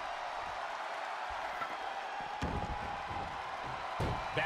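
Capacity arena crowd in the WWE 2K22 wrestling game during an Extreme Rules match, a constant distant roar with a few faint thuds and swells, no voices standing out.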